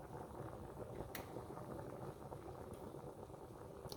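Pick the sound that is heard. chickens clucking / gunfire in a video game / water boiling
water boiling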